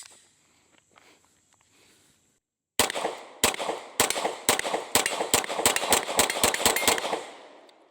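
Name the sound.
Beretta APX A1 pistol firing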